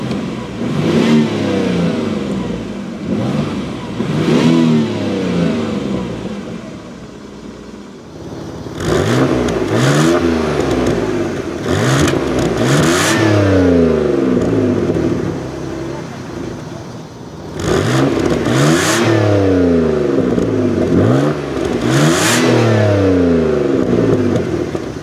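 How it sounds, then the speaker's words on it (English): A 1991 Dodge Stealth RT twin turbo revs repeatedly, its exhaust flaps opening at higher rpm for a louder, more pronounced note; loud, close bursts of rising engine roar recur between idling stretches. "when it hits that certain RPM, the flaps automatically open and release that pronounced sound"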